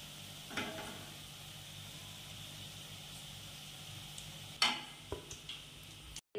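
Egg balls fry in hot oil over a low flame with a faint, steady sizzle close by, broken by a few small crackles and pops.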